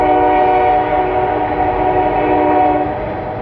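A Norfolk Southern mixed freight train with a WFRX locomotive passes in Lowellville, its loud sustained horn blaring steadily and close throughout, with rumbling rail noise beneath.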